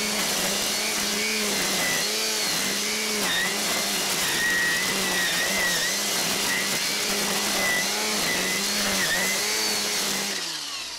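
A Milwaukee Quik-lok battery string trimmer spins its line through heavy growth, giving a steady, close whirring whine with a soft pulsing wobble that runs unbroken throughout and ends with a slight easing.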